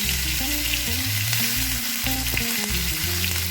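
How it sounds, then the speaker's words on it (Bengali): Chopped tomato drops into hot oil for a Bengali bhetki fish curry with potato and cauliflower, giving a loud, steady, close sizzle and crackling fry that runs unbroken, with no talk. "টমেটোটা দিয়ে দেবো।"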